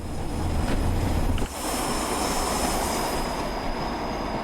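A train in the Train Simulator video game rolls along with a steady, loud rumble of wheels on track, carrying a faint high squeal and a brief dip partway through, with no talking.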